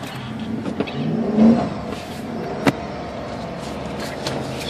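A Chevy truck engine at a car auction cranks and then runs at a steady medium idle, with a couple of sharp knocks or clunks over the continuous hum.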